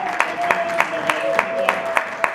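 Applause for a church choir, a short run of evenly spaced claps from a small congregation, fairly close and moderate in volume, with a steady tone and voices murmuring underneath.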